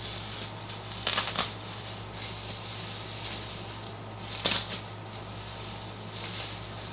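Tape is torn from a tightly wrapped box during an unboxing: two short, close crackling, ripping bursts with softer rustling handling between them. No one talks.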